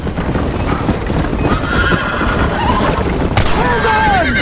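Horse hooves clip-clopping at a gallop and repeated neighing in the Western video game Red Dead Redemption, loud and continuous over a busy game soundscape, with a whinny rising near the end.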